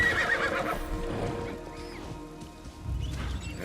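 A horse in Assassin's Creed Shadows lets out a high, wavering neigh at the start, followed by soft hoofbeats and low rumbling movement, fairly close and moderately loud.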